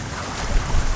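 A sailboat rolls side-on to a building swell in 28-knot gusts off the Whitsundays, with a loud, steady roar of wind and rushing water filling the moment.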